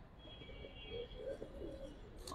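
Soft, low cooing from an old-line Giribaz pigeon repeats in a few gentle murmurs, fairly quiet and close, over a steady background hiss, with no voices.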